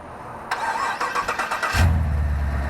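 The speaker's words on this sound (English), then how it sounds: "You notice how it cranks a little longer than a normal LS or gas engine?" A Jeep Wrangler with a 6.2 LT V8 cranks for about a second with a rapid rhythmic whir. It then catches and settles into a deep, close rumbling idle.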